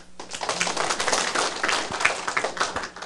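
Audience clapping at a Taiwan Civil Government lecture session, a dense, steady patter of many hands sustained throughout, fairly close and unbroken.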